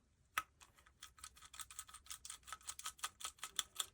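A Phillips head screwdriver unscrews the manifold from the body of a Gen 5 Intimidator paintball marker, giving a quiet, steady run of small ratcheting clicks close up.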